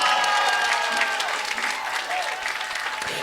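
A church congregation at a Sunday service applauds together, a dense, loud wash of clapping that holds steady throughout and tapers slightly near the end.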